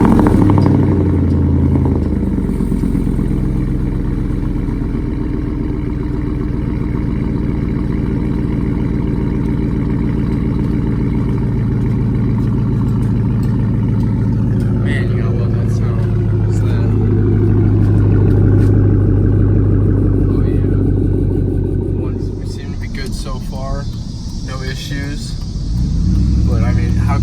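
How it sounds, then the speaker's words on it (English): A truck engine starts and settles into a steady idle, a loud low rumble with brief revs toward the end, while someone talks nearby over the running motor. "We're gonna grab a start up on the truck here."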